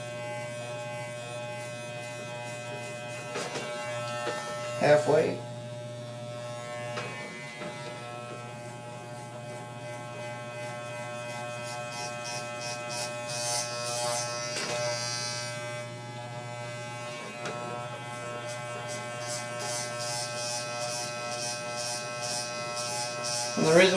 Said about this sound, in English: the reason why my clipper sound like that, because I was trying to adjust the blade and get it sharper